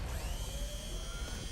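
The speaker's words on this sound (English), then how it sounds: "That's a big drill." A big drill attack whirs in the fighting video game Marvel Tokon, a loud grinding mechanical whine that holds steady for a moment amid game effects, with no voices.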